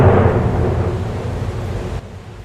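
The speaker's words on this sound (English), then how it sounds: "And a violent storm was moving closer." A violent storm rolls in as a deep, loud rumble of thunder that swells at the start and slowly decays over a couple of seconds, with a noisy wash like rain behind it and no voices.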